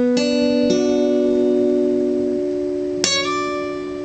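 Guitar notes played on strings with a slide between them: one note picked, shifting pitch in a quick slide, sustaining, then a second picked attack near the end that rings on, close and clear without talking.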